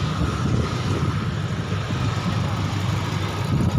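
Honda City i-DSI with automatic transmission, engine running at a steady idle, a continuous low rumble close by with no voices.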